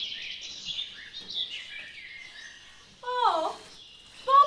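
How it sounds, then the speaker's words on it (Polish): A songbird named as a thrush in a staged Hansel and Gretel performance. It gives thin, scattered chirps and warbles, then two louder, clearer calls near the end, with quiet between phrases. "Słyszysz, Jasiu? Śpiewa drozd."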